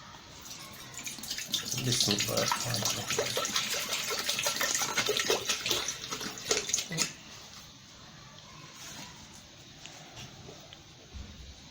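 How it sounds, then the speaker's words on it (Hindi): About a litre of water is poured into a bowl holding ground red chilli and salt for pani puri, a steady splashing gush for roughly seven seconds that then stops, leaving quiet room sound. "और अब हम इसमें पानी डालेंगे और ये चीज़ें शामिल करेंगे"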